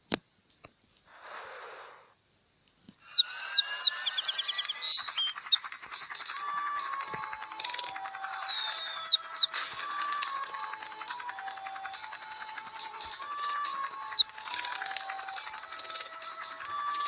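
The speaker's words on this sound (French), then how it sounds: "Ils font penser un peu à des moineaux." Sparrow-like birds chirp in the Helidroid video game, a dense, steady stream of high synthetic tweets and trills that runs on after a brief quiet start and a short breathy sound, fairly faint and with no talk over it.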